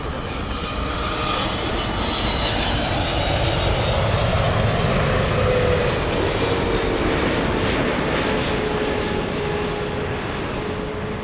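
A jet airliner's engines roar steadily at LAX airport, a loud, broad, continuous rumble and hiss that swells slightly midway and holds, with no voices.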